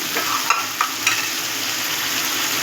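Cumin powder and salt are stirred into an onion-tomato paste in a frying pan, giving a close, even sizzle with three quick spatula scrapes near the start before the frying settles into a steady hiss.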